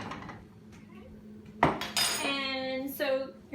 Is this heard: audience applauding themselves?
no